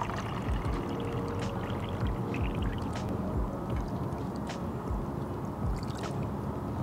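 Water poured from a cup into a pot holding cane sugar for cherry blossom jam, a steady close splashing pour running continuously for several seconds with no talking.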